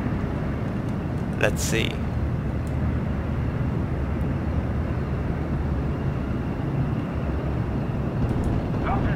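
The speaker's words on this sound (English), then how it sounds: "Oh, so I guess the bombers can act as a fighter aircraft." A Ju-88 bomber's engines drone steadily and loudly in the video game Steel Division: Normandy 44, a dense continuous roar with someone speaking briefly over it.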